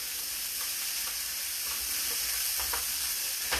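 Chicken fried rice sizzling hard in a hot pan while being stirred, a loud continuous frying hiss broken by a few scraping stirs, with no talking.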